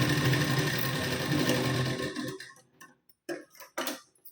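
Sewing machine running a double line of stitching on a blouse seam, a dense steady mechanical whirr for about two seconds that then stops, followed by a few short knocks and handling sounds, close up with no talking.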